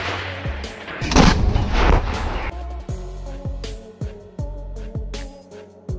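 A CAESAR 155mm self-propelled howitzer fires for the Ukrainian army, letting out a heavy, loud blast with a rolling rumble, followed by a series of regular low thuds.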